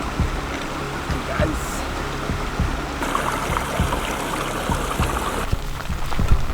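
Steady broadband rush of a river in Kazakhstan flowing over rocks, continuous and fairly close, with occasional low thumps mixed in.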